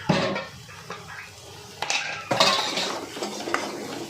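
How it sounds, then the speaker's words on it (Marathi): Masala roasts in oil in a pan with soft sizzling under clinks and scrapes of a spoon against metal as it is stirred, in irregular bursts close by. "आता मसाला चांगला तेलामध्ये भाजून घ्यायचा"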